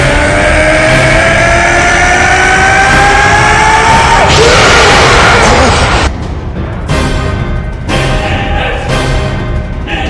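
An animated Goku, in his Spirit Saiyan form, lets out a loud, sustained scream as he powers up. It sounds with a rising, roaring energy surge and rushing noise throughout, then drops into bursts of crackling blasts.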